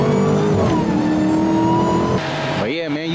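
A Dodge Hellcat car accelerates hard with a loud, close engine roar that climbs in pitch, then the tone shifts sharply and wavers as it revs again near the end; a voice is faintly present under it.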